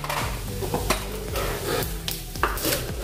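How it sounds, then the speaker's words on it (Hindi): Half a spoon of cumin seeds drops into hot oil and sizzles close up. Metal utensils clink and scrape against the pot in short bursts over a steady frying hiss, with no talking. "तेल अच्छे से गर्म हो गया है। इसमें डाल देंगे जीरा आधा चम्मच"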